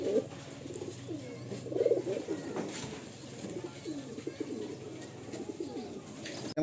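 Madrasi pigeons coo in repeated soft, throaty rolling calls close by, several overlapping phrases running steadily over a low background hum, with faint murmured voices now and then.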